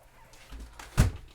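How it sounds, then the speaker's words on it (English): A window pulled shut indoors lands as one dull thunk with a brief scrape before it, close and fairly quiet, in a calm room during a guided meditation session. "Just going to close my window here 1 second."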